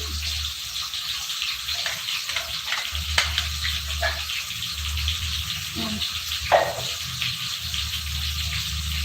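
Chili frying in a pan is stirred, a steady sizzle with scraping, clattering strokes of the utensil against the pan and a low background hum.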